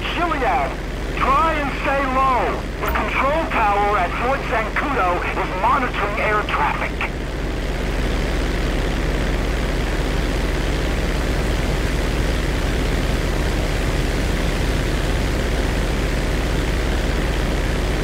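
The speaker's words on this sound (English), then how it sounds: "cargo plane right ahead of me!" Engine drone of a cargo plane in GTA 5, a steady broadband roar with a deep low rumble, under talk at first and then continuing alone.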